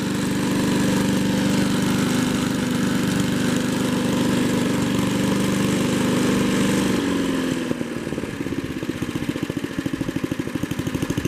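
A 1958 Blue Grass push mower engine runs at a steady, loud drone, then drops to a lumpy, rhythmic idle with distinct chugging pulses near the end.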